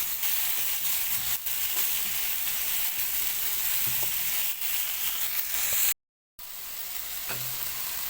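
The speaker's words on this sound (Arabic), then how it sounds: "هنفضل نشوح كده في المشروم والبصل لغايه ما يدبل معانا تمام." Mushrooms and onions sizzle steadily in a hot pan while being stirred, a continuous close frying hiss with a few soft scrapes and a brief gap near the end; no one speaks.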